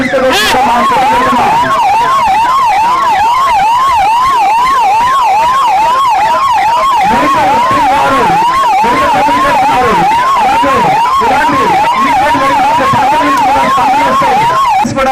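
Loud wailing ambulance siren rising and falling rapidly and steadily, very close, during a mock drill in Ongole, with a second siren tone and traffic rumble joining partway through.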